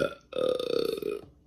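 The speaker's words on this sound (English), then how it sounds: "Gotta belch." One long, loud, guttural belch rumbles up close for about a second with a pulsing vocal buzz, then ends abruptly; no other speech is heard.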